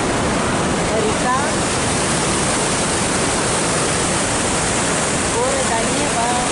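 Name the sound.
river rushing near Machu Picchu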